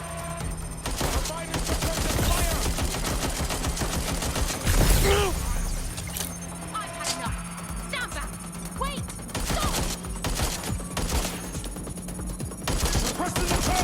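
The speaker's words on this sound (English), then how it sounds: "Providing suppressive fire!" Suppressive gunfire in the video game Watch Dogs Legion, a dense run of rapid sharp shots and bursts with a louder blast near the middle, close and continuous, with voices calling out between the shots.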